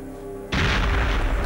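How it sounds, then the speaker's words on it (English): A grenade in the Perfect Dark video game blasts through a wall in the Area 51 level, bursting suddenly after a quiet moment into a loud, booming roar that stays dense and rumbling to the end. "I blew through the wall myself"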